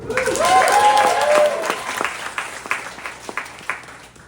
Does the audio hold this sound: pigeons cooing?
no